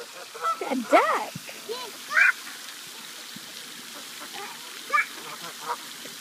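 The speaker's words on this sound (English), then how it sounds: "A duck." Ducks being fed bread outdoors give a few scattered quacks and honks at moderate distance, mixed with a child's and an adult's voices.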